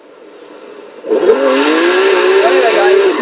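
Lotus 2-Eleven or 3-Eleven engine in Forza Horizon 3 drifting, a quiet start then a sudden loud rising rev into a sustained high engine whine, with a faint tire squeal.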